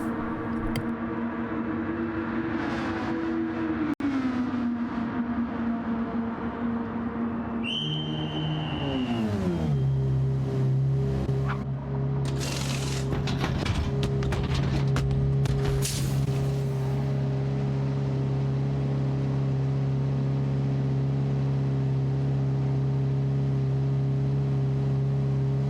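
A touring car in a racing game at the Sardegna circuit slows from a steady engine drone, downshifting with falling pitch as it enters the pit lane, then settles into a lower steady hum with a few sharp transient clatters.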